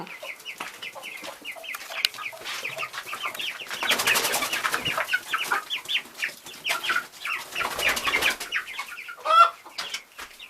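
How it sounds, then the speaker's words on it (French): A crowd of young chicks in a temporary pen peeps nearby, with dense, overlapping high chirps that run continuously and swell in places. "Voilà les poussins."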